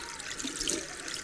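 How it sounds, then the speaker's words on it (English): Tap water runs steadily into a sink during handwashing with soap, a continuous close hiss and splash that holds level throughout and carries no speech. "I'm going to use soap and water to wash those germs down the drain."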